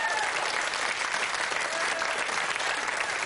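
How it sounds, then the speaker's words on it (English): A 1992 television game show studio audience applauds a newly introduced contestant, a full, continuous roar of clapping with faint crowd murmur and a trace of voices underneath. "A big round of applause."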